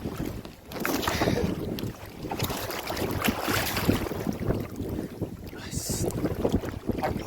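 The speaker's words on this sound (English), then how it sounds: "I'm back in the boat at last. I'm rowing out." A rowboat is rowed out of a cove with wind buffeting the microphone and water sloshing against the hull, with irregular splashing strokes and no talking.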